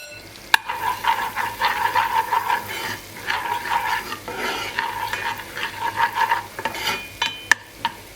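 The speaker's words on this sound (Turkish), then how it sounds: "Tereyağı eridikten sonra içerisine şöyle bir yemek kaşığı nane ilavesi yapıyorum." A spoonful of mint sizzles in melted butter in a pan for lentil soup, a soft crackling hiss rising and falling in bursts with an occasional sharp clink of a spoon.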